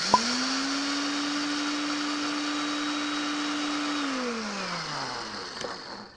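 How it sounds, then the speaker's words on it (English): A blender grinding flax seeds whirs at a steady high pitch for several seconds, then winds down as the motor stops, preceded by a brief click at the start. "you put in your blender"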